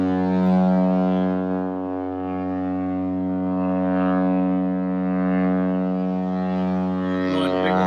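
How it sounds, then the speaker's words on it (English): A deep, steady cargo ship's air horn blares continuously for several seconds, loud and droning, echoing down the waterfront in Savannah, Georgia, with a faint echo and some wind noise at the end. "Blowing a big old air horn."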